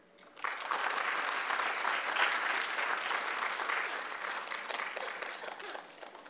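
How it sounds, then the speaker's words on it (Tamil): A seated audience at a Bharatanatyam arangetram breaks into applause, swelling quickly to steady, dense clapping that holds, then gently thins toward the end. "உங்கள் கரகோஷங்கள்."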